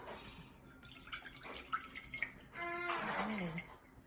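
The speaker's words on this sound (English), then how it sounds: "in step three, I'm going to pour my water in here" Water poured into a container, a gurgling, rising pour arriving after soft handling and drip-like taps, close and fairly quiet.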